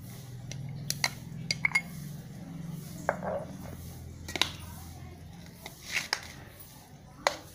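Cooled rice mixed with grated mango in a vessel, heard as scattered soft clinks and taps of a spoon against the pot with faint squishy mixing between them, quiet and close.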